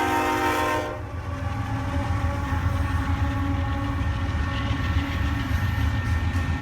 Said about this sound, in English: Chicago Northwestern GP7 number 4153 was built for the C&W in April of 1952.